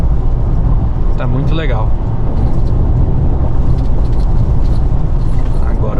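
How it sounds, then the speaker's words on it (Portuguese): Mitsubishi Triton diesel pickup cruising on a highway at about 1500 rpm and 80 km/h, a steady low engine drone with road and tyre noise running throughout, a voice talking over it from inside the cab. "a caminhonete tá rodando em 1500 giros"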